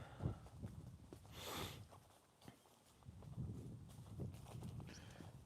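Hooves of an ex-racehorse walking, a steady clip-clop of footfalls nearby, with faint background movement and no talk.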